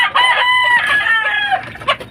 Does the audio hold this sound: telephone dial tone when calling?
no